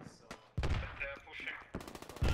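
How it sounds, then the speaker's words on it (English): Bursts of gunfire in the military shooter Squad, with rapid automatic volleys and sharp single cracks at varying distances amid battlefield noise, with no talk over them. "There's multiple of them, about three, maybe four. I heard multiple shots."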